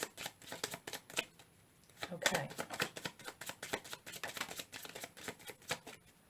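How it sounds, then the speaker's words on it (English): Tarot cards are shuffled close up in quick, crisp riffling bursts and soft slaps of rapid, uneven rhythm, quiet overall, with a brief spoken word in between. "One more shuffle."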